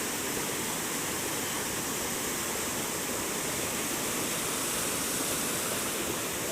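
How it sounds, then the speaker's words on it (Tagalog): A constant, dense rush of a fast-flowing large river fills the scene, loud and unbroken, with no voices. "Ang bilis ng agos."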